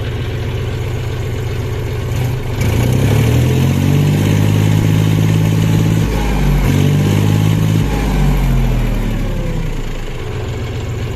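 A John Deere 5105 4WD tractor's diesel engine cranks and catches, then settles into a steady, loud idle with a brief rise in revs midway, close to the listener.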